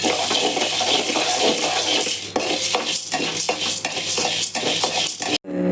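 Chana dal dry roasting in a pan, a dense continuous rustling rattle of lentils shifting under stirring, loud and close, cutting off abruptly just before the end, no talk.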